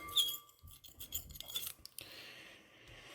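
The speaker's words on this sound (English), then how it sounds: "Scrape the bowl a little bit there." Polymer slime is scraped from a bowl in short rasping strokes, with a few quiet scratchy rubs and a sharper scrape at the end. The sound is close and no one speaks.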